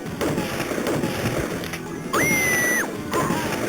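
Gunfire sound effects from a lightgun shooting game running in MAME, repeated sharp bangs and crashes over game noise, with a sustained electronic tone partway through.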